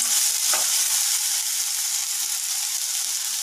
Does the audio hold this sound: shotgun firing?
no